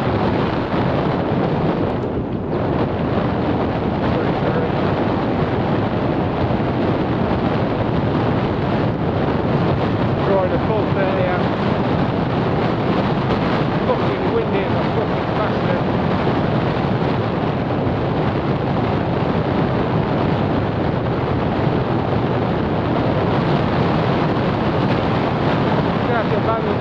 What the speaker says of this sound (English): start to abandon this, it's far too windy.